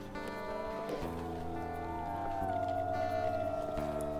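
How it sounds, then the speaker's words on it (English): Wolves howling in the video game WolfQuest, long sustained howls rising and sliding in pitch over a steady ambient game soundscape, several voices overlapping at moderate distance. "they're still howling from, like, absolutely everywhere"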